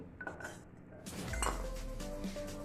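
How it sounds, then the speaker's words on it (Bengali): Fried lentil dumplings (bori) lifted out of oil onto a plate in a Bengali kitchen, with faint clinks of utensil against dish and a soft thud, quiet and close. "বড়িগুলোকে ভেজে নেওয়ার পর আমি একটা প্লেটের মধ্যে আলাদা করে তুলে নিচ্ছি"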